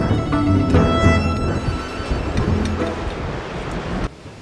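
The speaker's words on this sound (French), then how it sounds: "le vent là, il est puissant" Strong wind in Iceland roars steadily into the microphone, a broad buffeting rush with gusts rising and falling, then it drops off abruptly near the end.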